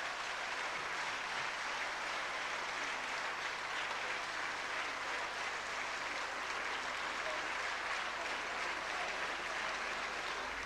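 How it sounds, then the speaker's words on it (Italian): Applause in the Italian Senate after the living will law passed, a sustained dense clapping from many hands that stays even and unbroken throughout. "L'approvazione finale che regola la vita, la fine della vita del malato è stata accolta da applausi e lacrime"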